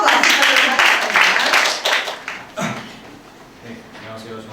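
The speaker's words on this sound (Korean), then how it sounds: "우리 조승현 선배 박수로 맞춰주시면" An audience at an academy seminar with invited senior students claps to welcome a student speaker. The applause is brisk, fades out after a few seconds, and voices come in behind it.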